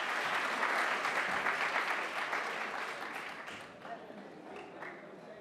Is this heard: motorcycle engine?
no